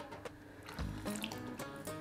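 Water is poured from a tap into a cooking pot while making a baked orzo casserole with chicken livers, gizzards and tomato sauce; a faint splashing trickle with a few clinks in a home kitchen.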